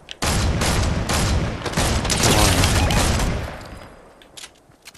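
Heavy gunfire in Fortnite Zero Build, a dense volley of loud shots and booms for several seconds that tapers off into quieter scattered sounds near the end.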